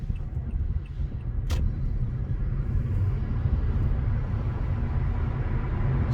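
A car with a CVT transmission, its fluid only partly changed, accelerates smoothly with a steady, even low engine rumble and no surges, plus one brief click early on.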